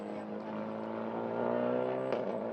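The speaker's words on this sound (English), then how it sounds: "Get those engines warmed up, get those tires warmed up" Several race car engines idle and rev steadily on a warm-up lap before a standing start in a TP2000 touring car round, a continuous harmonic drone that swells slightly midway.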